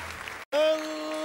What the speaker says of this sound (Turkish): Alkışlar Gizem Karaca için